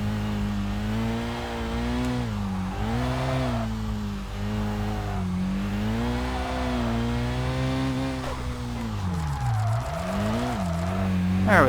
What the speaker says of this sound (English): At least I know I can definitely get this car sideways